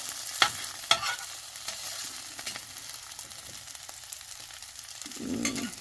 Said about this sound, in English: Hear that sizzle, guys.